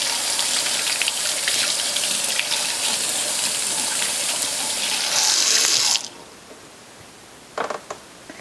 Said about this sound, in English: So what I do is I just rinse that off.